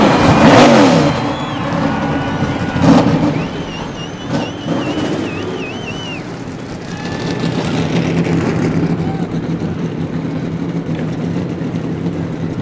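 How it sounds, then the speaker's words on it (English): Stock cars of the 2001 NASCAR Busch Series on the grid at New Hampshire fire up and rev, loud roaring engines swelling and dipping with rising whines, blending into one dense, continuous rumble. "Gentlemen, start your engines."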